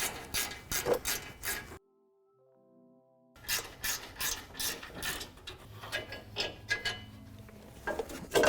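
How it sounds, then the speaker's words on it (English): A ratchet backing out crash bar bolts on a 2021-2022 Ford Bronco, rapid rhythmic clicking in close bursts, broken by a short silent gap before the clicking resumes and carries on to the end. "once you got them loose, you can use a ratchet to get them out the rest of the way"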